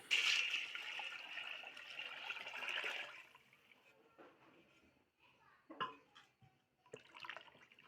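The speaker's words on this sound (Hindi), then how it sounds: "अब लस्सी डाल देते हैं" Lassi pours into a freshly prepared masala for kadhi pakora: a splashing stream for about three seconds, then quieter clinks and kitchen handling sounds.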